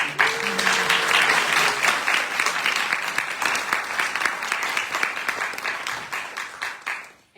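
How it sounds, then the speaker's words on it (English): An audience at a climate justice and worldviews event applauds the organizing team and volunteers, a thick wash of clapping that gradually thins and tapers off at the end. "Let's give them a round of applause"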